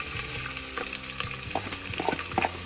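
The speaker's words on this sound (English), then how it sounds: "Now you can listen to the nice popping sound here." Hot oil sizzles steadily while cumin seeds pop and crackle in scattered bursts, with occasional clinks of a stirring utensil close by.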